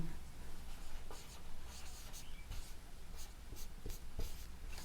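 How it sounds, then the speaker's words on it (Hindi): Pen or chalk writing a Hindi word by hand, a steady close scratching with short strokes and brief pauses, faint room noise underneath and no talking. "ये पद्मिनी हम लिख दिए हैं"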